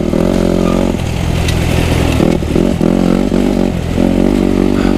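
Kawasaki KX250 motocross bike with a short-stroke, high-compression engine and only about 10 hours of use, running loud and close with a sharp, crackling pulse that rises and dips in brief revs.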